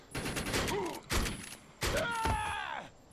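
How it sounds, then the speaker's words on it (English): A pump-action shotgun in the shooter game Defiance fires three heavy blasts spaced about a second apart, with a voice talking over the shots. "And you can even reload one shell and just keep firing that one. Reload one, fire one."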